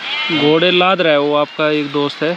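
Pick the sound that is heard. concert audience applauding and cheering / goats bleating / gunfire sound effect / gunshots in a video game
goats bleating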